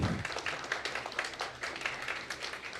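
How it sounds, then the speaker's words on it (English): Crowd of parents at a preschool kids' concert and graduation day clapping after a performance, a fairly faint, continuous patter of many hands heard from a distance for about three seconds. "Please give them a big round of applause."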